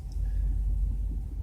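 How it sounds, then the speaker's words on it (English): Steady low rumbling wind buffeting ahead of a storm, a continuous dull roar with gusty swells and no voices. "It's really windy today."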